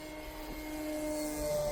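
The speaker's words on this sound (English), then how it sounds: "I'm going to do a low flyby." Radio-controlled E-flite Carbon Z Cessna 150T model plane, a 2.0 m electric model, making a low flyby, its motor whine rising steadily in pitch and loudness as it approaches.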